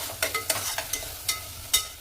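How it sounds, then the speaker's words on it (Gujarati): Red chilli powder, masala and turmeric fry in oil for dal dhokli, with a soft sizzle under repeated sharp scrapes and taps of a spoon stirring the pan, close and fairly quiet, no talking. "હવે મસ્ત તેલમાં ફ્રાય થવા દઈશું."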